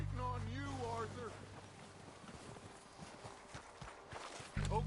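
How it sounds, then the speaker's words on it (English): Horse hooves clip-clop in a steady walking rhythm in the video game Red Dead Redemption 2, the hoofbeats moderately close and heard under a character's spoken dialogue at the start. "They're coming down with the horses."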